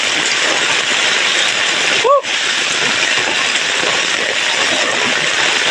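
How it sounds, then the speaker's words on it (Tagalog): Heavy tropical rain pours down steadily and loudly during a typhoon as someone walks home, a dense continuous hiss with a brief dip near the middle and no voices. "Napakalakas na buhos ng ulan."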